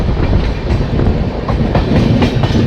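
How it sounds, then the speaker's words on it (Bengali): Inside an express train near Khurda Road, a loud, steady rumble fills the carriage, with rhythmic clickety-clack wheel beats over the rails. "ভুবনেশ্বর থেকে ট্রেন ছাড়ার পর মুহূর্তের মধ্যেই ট্রেন খুর্ধা রোড পৌঁছে গেছে।"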